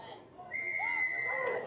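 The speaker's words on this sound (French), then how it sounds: "Nouvelle pénalité sifflée" A referee's whistle sounds a single sustained blast for a penalty during a Super XIII rugby league match between Limoux and Pia, fairly faint amid a distant stadium crowd and commentary.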